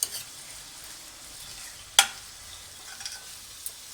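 Afghani chicken karahi fries on a high flame with a faint, steady sizzle, broken by a sharp clank of the stirring spoon and a few lighter knocks, with no voice heard.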